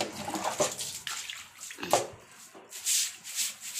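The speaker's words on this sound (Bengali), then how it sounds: "একটু ঝাঁটা দিয়ে জলটা বার করে দিচ্ছি।" A broom sweeps standing water out across a wet floor, giving repeated scraping, splashing swishes in uneven strokes, close and moderately loud with no talking.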